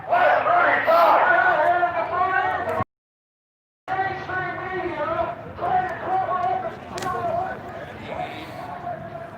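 Loud crowd of protesters chanting and shouting outside the Michigan Senate office in Lansing, a dense mass of raised voices with a brief cut of silence midway before the din resumes.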